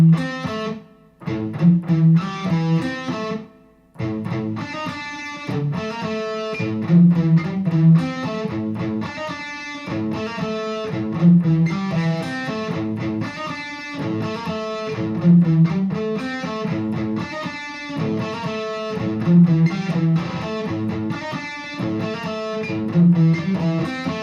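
Heavy distorted electric guitar playing a riff, chugging palm-muted low notes and repeated melodic phrases cycling steadily for over twenty seconds with one brief pause near the start, loud and alone.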